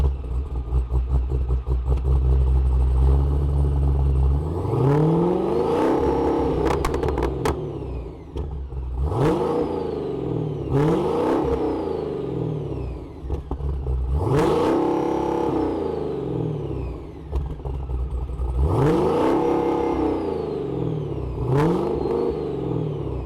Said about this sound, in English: you are going to have an incredible exhaust note